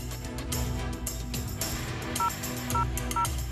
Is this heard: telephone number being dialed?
yes